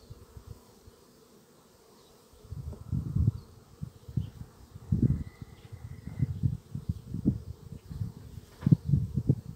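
Honeybees buzz around a swarm-colony beehive, their pulsing hum close and rising after a quiet start, with bursts of bees passing near the microphone.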